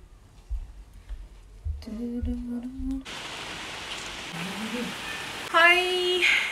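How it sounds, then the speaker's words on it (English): Steady rain falls continuously through the second half, a broad hiss that fills the background, while a voice hums or speaks with tonal sounds over it; the first half is quieter room noise. "it has been raining since morning"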